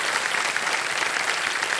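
A studio audience on the Hindi quiz show KBC applauds a contestant who has just quit the game with 7,50,000 rupees. The clapping is short, steady and dense, with no voices over it.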